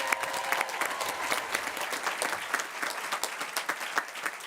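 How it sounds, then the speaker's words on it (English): Graduates and guests applaud at the 2024 LMU graduate commencement, a loud, sustained crowd clap with crisp individual hand strikes standing out from the continuous roar. "let's clap, come on"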